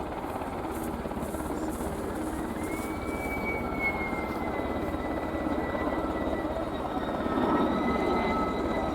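An AgustaWestland Merlin helicopter roars through an air show flying display, a steady loud rotor and turbine drone holding throughout with a faint rising whine.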